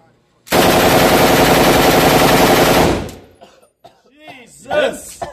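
An AK rifle fires a long, loud automatic burst at a gun range, about two and a half seconds of rapid close shots, followed by excited shouting.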